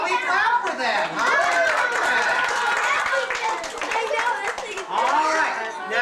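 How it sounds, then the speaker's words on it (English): An audience claps for a group of children after a party game, the scattered clapping mixed with loud, excited chatter and voices throughout. "How about we clap for them"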